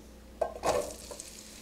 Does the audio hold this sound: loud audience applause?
no